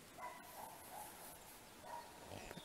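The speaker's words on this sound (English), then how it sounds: "farmer's dog." A farmer's dog barks about 300 meters away in the countryside, several faint, distant barks spread through the clip over a quiet outdoor background.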